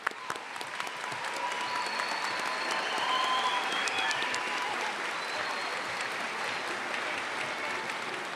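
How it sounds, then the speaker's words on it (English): Sustained audience applause fills a graduation ceremony hall, a dense even wash of clapping from a large crowd that swells slightly midway and holds steady throughout. "Round of applause."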